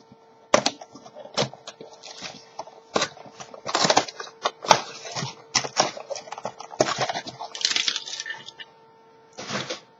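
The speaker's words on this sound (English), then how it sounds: "So I'm just going to unwrap the box." The box of a toy dragon egg is unwrapped with a series of sharp, close crackles and tearing bursts of cardboard and plastic, irregular and spaced out between brief quiet gaps.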